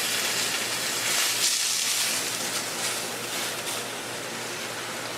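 Tuna searing in a hot pan, a steady broad hiss of sizzling oil that swells slightly at first and then holds even, close and alone without talking.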